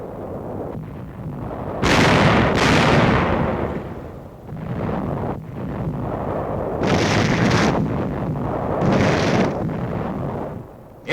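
Small arms and mortar fire in a 1945 combat newsreel from the Australian advance on Parramatta Ridge, heard as loud rolling blasts and crackling gunfire in several heavy bursts over a noisy, worn soundtrack.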